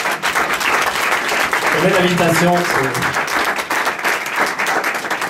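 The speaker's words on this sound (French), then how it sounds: "On l'applaudit bien fort, merci." An audience claps loudly and steadily throughout, with someone speaking over the applause in the middle.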